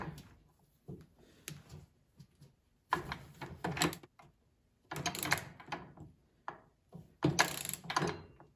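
Two wrenches turning the nuts and bolts on the drive axle of a wheeled MTD snow blower during a friction wheel replacement, giving bursts of metallic ratcheting and clinking separated by short pauses, close and fairly quiet with no talking.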